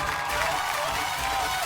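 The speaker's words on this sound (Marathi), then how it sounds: "तर जोरदार टाळ्या होऊन जाईल." Audience applause for game show contestants on a Marathi television show, a steady, dense wash of clapping from a studio crowd, even in loudness throughout this short stretch.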